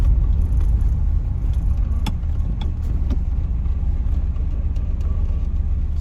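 A 1976 Ferrari 308 GTB being driven, with a steady low engine rumble heard from inside, plus a few small clicks and rattles over the drone.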